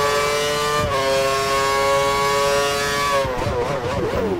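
Engine of a Formula One car in the F1 2013 racing game leaving the pit lane at Bahrain, a loud, sustained high-pitched whine that holds steady, then wavers and shifts near the end.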